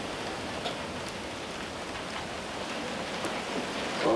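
Light drizzling rain falls steadily outdoors near a beach where horses are kept, a soft even patter and hiss with no wind gusts, continuous and moderately quiet throughout.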